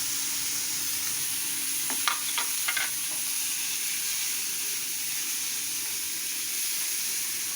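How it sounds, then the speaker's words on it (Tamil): Steady sizzle of kachori stuffing with ginger garlic paste being stir-fried dry in a pan, with a few brief scraping taps of the spoon early on, close and continuous, no talk. "நல்லா கொஞ்சம் ட்ரையாக வறுத்துக்கணும்"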